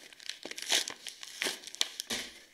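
A trading card pack is torn open by hand without scissors, giving a few quick close crinkling and ripping bursts of foil wrapper in an otherwise quiet room.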